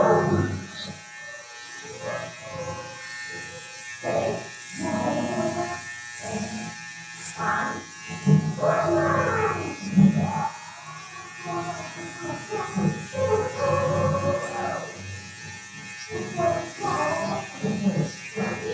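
An ENCHEN BEARDO 2 multi-functional electric trimmer cuts hair with a thin, steady buzz running under frequent close speech.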